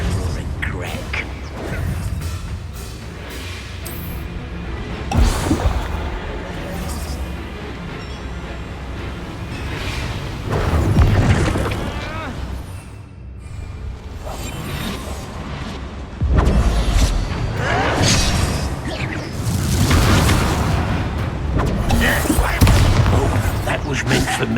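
Bombarda spell explosions in a Harry Potter video game, heavy booming blasts bursting out a few times amid a dense, continuous mix of battle effects and voices.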